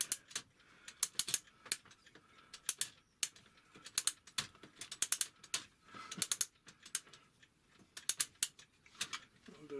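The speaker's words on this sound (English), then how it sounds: "make sure the brake is on, and wind it up with a key." A 1950s-style clockwork model locomotive is wound with a key while its brake is on, giving rapid ratcheting clicks in quick bursts with short pauses between turns, close and fairly quiet.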